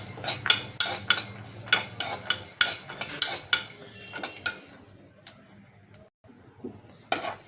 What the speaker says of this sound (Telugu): ఒక స్పూన్ జీడిపప్పు వేసుకుని బాగా వేయించుకోవాలండి